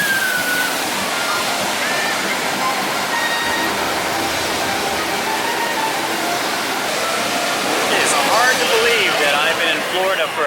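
Water rushes and splashes around a log flume ride at a theme park, a loud steady churning wash that swells near the end, with people talking over it.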